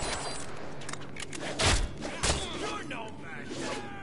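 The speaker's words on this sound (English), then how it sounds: "machine gun!" Machine gun fire in the Deadpool video game, a quick burst of sharp close shots layered over busy game sounds, with a couple of louder thumps and no clear voices.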